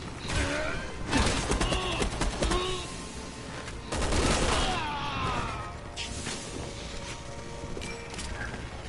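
Gunfire in Resident Evil 6, during Chris's campaign: several loud bursts of rapid shots with booming impacts and mechanical clatter, coming in uneven waves with quieter gaps between.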